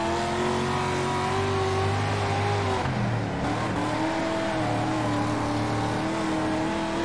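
A dirt race car in World of Outlaws: Dirt Racing drones loudly and continuously as its engine bogs down, the pitch dipping midway and then holding steady without recovering.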